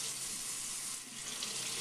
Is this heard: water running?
yes